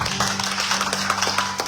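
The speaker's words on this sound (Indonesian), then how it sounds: "Tepuk tangan buat Tuhan Yesus" A church congregation clapping in praise, steady rhythmic handclaps over a sustained low organ-like hum, moderately loud and continuous.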